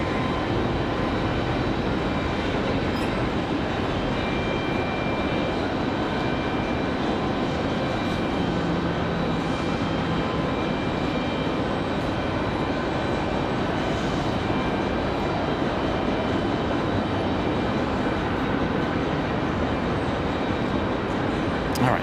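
Airliner arriving from Los Angeles at Raleigh-Durham airport, heard as a continuous, even jet roar and hiss lasting the whole stretch, steady in level and fairly close.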